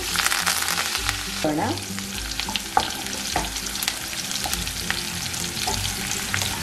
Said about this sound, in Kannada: ಒಂದು ಹಸಿಮೆಣಸಿನಕಾಯಿ ಹಾಕೋಣ. ಕರಿಬೇವು ಹಾಕೋಣ. ಸ್ವಲ್ಪ ಬಾಚ್ಕೊಳ್ಳೋಣ.